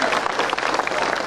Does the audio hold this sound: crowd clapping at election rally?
yes